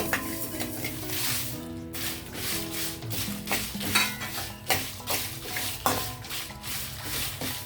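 Cumin and dried red chilies dry-roasting in a pan without oil, with a soft crackle and rhythmic metal scrapes and clinks of a spatula stirring the spices, close by.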